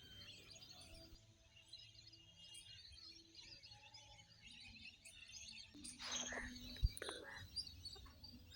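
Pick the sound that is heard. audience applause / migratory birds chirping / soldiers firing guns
migratory birds chirping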